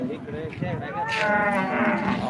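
Cows at the Modnimb cattle market moo loudly and close, one long drawn-out call rising and sustained over crowd noise.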